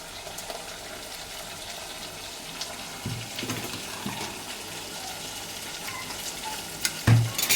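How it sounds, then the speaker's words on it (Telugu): Marinated chicken frying in a pan in its own water makes a soft, continuous sizzle, with a few brief stirring scrapes and a louder clatter near the end. "చికెన్లో ఉన్న వాటర్తోనే ఫ్రై కుక్ అవుతుందండి"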